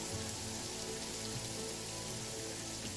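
Rain pours steadily during a storm in a squad tactical strategy RPG, a dense, even hiss of drops beating on surfaces with no pauses and no speech.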